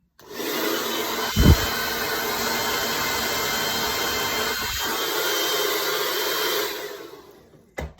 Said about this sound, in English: just take a hairdryer